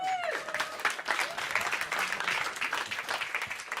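Audience applause at a live college lecture event in the Netherlands, a dense, steady wash of clapping from a full room lasting throughout, with a brief tonal whistle-like sound at the start.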